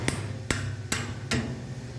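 Hammer striking the ends of a clamped frame on a heavy table at an angle, four sharp, loud impacts spaced about half a second apart, each ringing briefly, with no talking.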